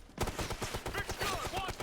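Rapid automatic gunfire rattles in a fast, even stream in Ghost Recon: Future Soldier, fairly faint, with shouted voices mixed into the burst.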